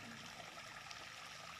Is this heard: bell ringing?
no